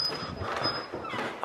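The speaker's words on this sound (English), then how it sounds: "That's the dog." A dog whimpers in a short high, thin whine, held steady for about a second with a brief yip at the end, fairly close amid faint room noise.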